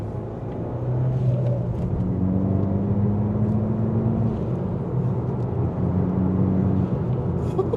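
A modified Abarth 595 Competizione with a Garrett turbo drives along with a steady, droning engine hum and road rumble from inside the cabin, its pitch rising and settling gently; no pop-off valve burst stands out clearly.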